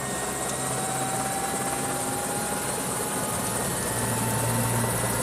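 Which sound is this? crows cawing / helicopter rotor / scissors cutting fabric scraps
helicopter rotor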